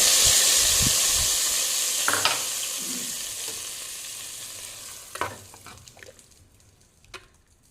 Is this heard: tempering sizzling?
yes